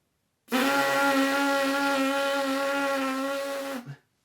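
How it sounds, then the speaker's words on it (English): Lips buzz firmly together, blowing a raspberry before playing a French horn mouthpiece: a single sustained, reedy buzz lasting about three seconds, close and steady, heard alone. "So all I'm really doing is blowing a raspberry."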